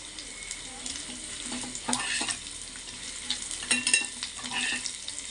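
Ginger and green chili pieces fry in a pan while being stirred, giving a steady soft sizzle with scraping clinks of a spoon, close and moderate, no talk.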